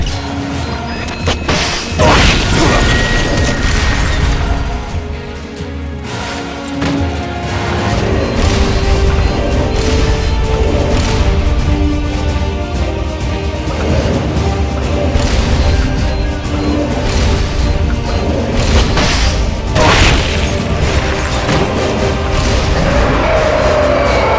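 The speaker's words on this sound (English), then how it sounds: "Launching S-mines. Cluster bombs!" Explosions from S-mines and cluster bombs in Metal Gear Solid: Peace Walker on PS3, a dense, continuous barrage of loud crashing blasts and thuds layered over game music for the whole stretch.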